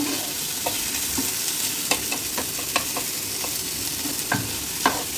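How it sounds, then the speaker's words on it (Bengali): Tomatoes and soaked cashews frying in a pan for butter chicken, a continuous sizzle broken by repeated scraping clicks of a spatula stirring at an irregular pace, close and moderately loud with no talking. "এই সমস্ত জিনিসটা একটু ভালো করে ভাজা করে নেব"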